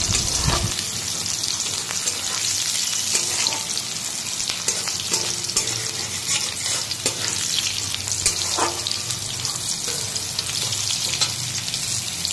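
Boal fish fries in hot oil in a pan, giving a loud, continuous sizzle with intermittent scraping and stirring sounds throughout.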